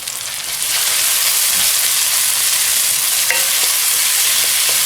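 Onions with ginger garlic paste are stirred and fried in a pan for a keema kachori filling, a steady close sizzle with scraping spoon strokes throughout and no talk.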